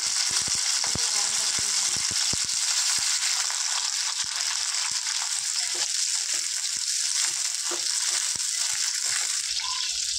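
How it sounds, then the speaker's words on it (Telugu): Green chillies frying in hot oil, a dense nearby sizzle with a rush of bubbling and a string of sharp pops and crackles, heaviest at the start, with no one speaking. "ఫ్రెండ్స్ ఆయిల్ హీట్ అయింది, మిర్చి ఫ్రై చేసుకుందాం."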